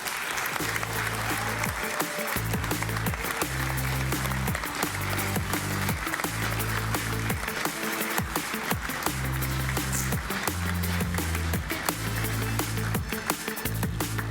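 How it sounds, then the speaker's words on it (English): A crowd at a Rocket League esports tournament applauds steadily and loudly for the whole stretch, with music playing underneath and a few cheers mixed in. "please, a big round of applause for our next two teams"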